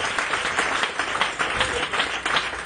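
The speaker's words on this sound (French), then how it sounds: "Donnons encore une acclamation pour notre Dieu." Church congregation clapping in sustained applause during a French-language service, a dense, continuous wash of many hands filling the room, steady in loudness throughout.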